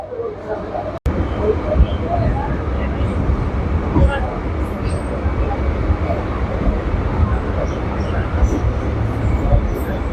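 A Kolkata local train pulls out of Majerhat station with a steady, loud rolling rumble and wheel clatter from onboard, continuous throughout, with a voice speaking over it.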